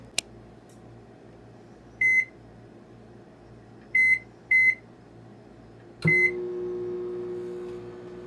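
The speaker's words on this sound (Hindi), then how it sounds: "इसको माइक्रोवेव में बेक करते हैं 1 मिनट।" A microwave oven baking a chocolate mug cake: a sharp click, a few short electronic beeps, then the low steady hum of it starting to run.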